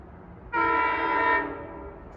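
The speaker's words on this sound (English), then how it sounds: "502 approaching westbound is train 45 en route from Speonk to Jamaica" A westbound Montauk Branch passenger train, led by locomotive 502 from Speonk to Jamaica, sounds a loud, sustained multi-tone horn for about a second on approach, then fades to a low rumble.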